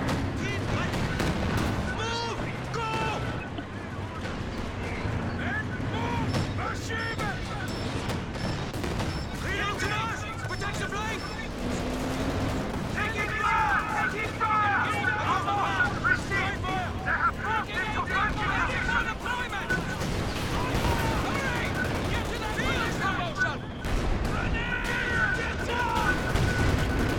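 Continuous gunfire and explosions in the World War II strategy game Company of Heroes 2, dense bursts and booms over rumbling battle noise, with soldiers' shouted voice lines mixed in.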